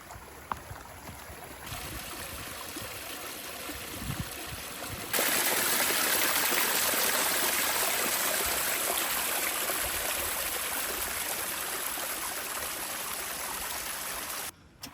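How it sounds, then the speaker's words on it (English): Small streams trickle and flow through a forest campsite in Mark Twain National Forest, Missouri, a steady close rushing wash that swells louder partway through and continues with no talk. "Is it pretty cool how it's got the little streams running through it?"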